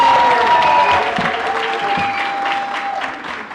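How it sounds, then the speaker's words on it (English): Audience applause at a women's empowerment launch event, loud sustained clapping from a crowd filling the room, tapering slightly near the end. "Let's clap for Mary once more."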